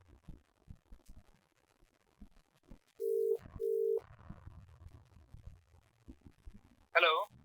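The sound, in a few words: phone call ringing when dialing again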